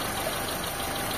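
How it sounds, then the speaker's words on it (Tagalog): A Mitsubishi Lancer EL engine with a carburetor runs steadily nearby, its continuous rough idle suggesting a misfire, with no talking over it. "medyo makinig yung makina niya"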